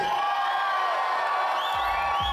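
Wedding reception guests cheer and whoop together in a sustained, loud crowd roar that holds for the whole brief stretch.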